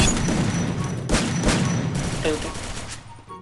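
Sniper rifle gunshots in a PC battle match, several sharp close cracks in quick succession over a dense background of game noise, with a voice underneath.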